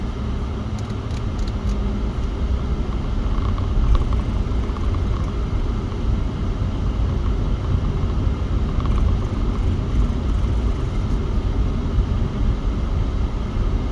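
A truck drives along the road nearby, producing a steady, loud low rumble of engine and tire noise that holds evenly throughout with no talking.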